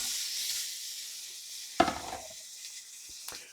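Shrimp hit a hot, smoking oiled pan with a soft, faint sizzle, then a sudden crackling splatter burst that fades back to a low hiss, with one more small pop near the end.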